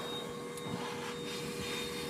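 Pet hair dryer sold as an animal dryer, used to blow-dry a Persian cat, running steadily at close range with a constant broadband whoosh and faint whine, no talking.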